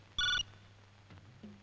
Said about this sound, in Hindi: देखा ना, दिल्ली से फोन आया होगा